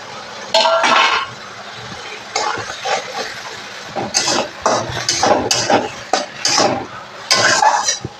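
Fried maya fish tipped into a pan of chochchori seasoned with salt, turmeric and a little sugar, then stirred, giving scattered clatters and scraping bursts of utensil against metal over a faint sizzle.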